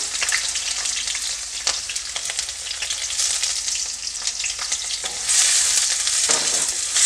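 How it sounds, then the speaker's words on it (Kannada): Finely chopped onions and three green chillies hit hot oil for a vegetable masala Maggi, giving a loud, continuous crackling sizzle that flares up stronger toward the end, with no talking. "ಇವಾಗ ಎಣ್ಣೆ ಚೆನ್ನಾಗಿ ಕಾದಿದೆ ನಾನು ಅದಕ್ಕೆ ಒಂದು ಮೂರು ಹಸಿಮೆಣಸಿನ್ಕಾಯಿ ಹಾಗೆ ಸಣ್ಣದಾಗಿ ಕಟ್ ಮಾಡಿ ಇಟ್ಕೊಂಡಿರುವಂತಹ ಈರುಳ್ಳಿನ ಹಾಕ್ಕೊಳ್ತಾ ಇದ್ದೀನಿ"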